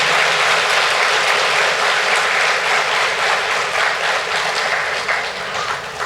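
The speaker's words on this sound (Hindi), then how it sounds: "और तालियां इतनी ज़ोर से बजाइए कि बाबा को आवाज़ आए।" A large audience at a Diwali gathering at Anand Sarovar, Durg claps loudly, a dense, sustained roar of applause that stays strong throughout and eases slightly at the close.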